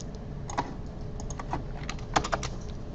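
Someone types code on a computer keyboard during a programming lecture, a steady run of close, crisp key clicks with a few louder strikes and no talking.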